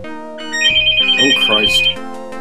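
A real telephone ringtone trills loudly for about a second and a half, a warbling electronic ring over background music and game sounds, with speech close by.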